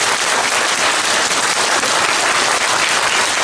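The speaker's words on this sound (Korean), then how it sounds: "한번 큰 박수로 우리 한번." A church congregation gives a big round of applause for the choir, dense, loud and continuous clapping filling the room with no talk over it.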